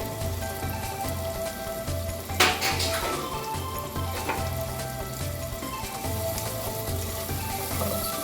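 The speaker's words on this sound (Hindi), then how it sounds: "अच्छे तरीके से जब तक गोल्डन ब्राउन हो जाता है तब तक हम इसको फ्राई कर देंगे।" Bitter gourd pieces frying in hot oil until golden brown crackle with a dense, constant sizzle close by, broken by one sharper spit and occasional stirring, with no voices.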